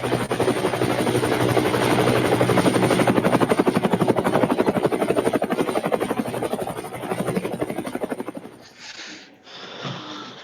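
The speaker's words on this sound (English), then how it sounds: "it's obligatory we send in the helo." A helicopter sound effect thunders up close with loud, steady rotor chopping for about eight seconds, then cuts away to a fainter, brief tail.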